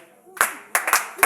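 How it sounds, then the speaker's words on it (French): A few sharp, scattered claps from a congregation at a French-language church service, sounding in short bursts with a voice heard between them. "applaudissez le roi des rois."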